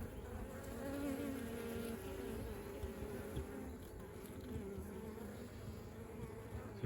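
Honeybees buzzing around old honey frames being uncapped with a fork, a constant low hum of many insects, close but faint, with no voices.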